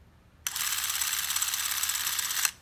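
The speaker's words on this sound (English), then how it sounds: "I'm going to advance the film using my finger on the other side of the camera to press the shutter button" A Revere Eight Model 88 8mm film camera runs as its shutter is pressed to advance the film, giving a steady mechanical whirring rattle for about two seconds that starts and stops abruptly, with no talking.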